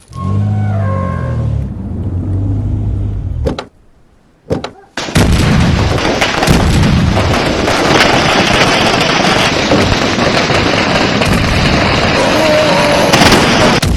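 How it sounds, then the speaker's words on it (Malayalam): Firecrackers burst in a Malayalam comedy film scene: a loud, dense, continuous crackle of rapid overlapping bangs, resuming after a brief lull and keeping up a steady barrage to the end. "പടക്കം പൊട്ടിക്കലും നിർത്തടാ"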